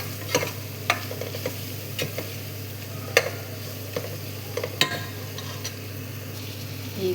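A pan of spinach palak masala with garam masala being stirred, a spoon scraping and clicking against the pan in irregular taps over a steady low sizzle, with no talking.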